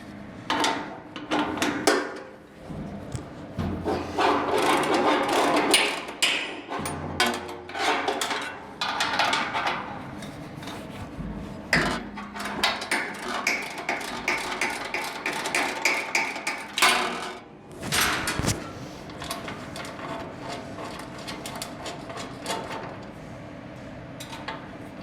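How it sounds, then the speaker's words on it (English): Metal spanners clinking and knocking against fittings while two 17mm spanners remove the side bearings on a Chapman TF350 machine, a steady run of close, irregular metallic clatter and scraping with short pauses. "So if you get your two 17mm spanners,"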